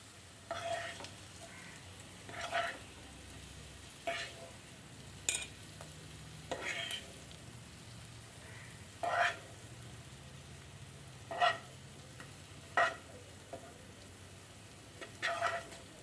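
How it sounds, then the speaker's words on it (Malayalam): Paneer cubes frying in a pan with a low, steady sizzle, broken every couple of seconds by brief scraping strokes of a spatula as the pieces are stirred and lifted out. "പനീർ ആവശ്യത്തിന് ഫ്രൈ ആയിട്ടുണ്ട് ഇനി നമുക്കൊന്ന് കോരി മാറ്റാം"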